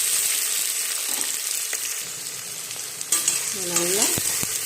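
Onions and masala sautéing in a pan for chicken biryani, a steady close sizzle with occasional stirring scrapes and a few clinks near the end.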